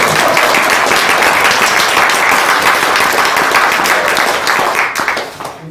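Loud, dense audience clapping at a commemorative speech event, sustained evenly for several seconds before tapering off at the end.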